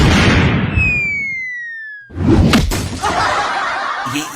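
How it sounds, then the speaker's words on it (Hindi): A comedic cartoon-style explosion effect for a sketch about an uncle's smoking lungi: a falling whistle glides down, followed by a sudden loud bang and crackling burst. "ये कैसा धमाका हुआ भाई ताऊ की लुंगी में?"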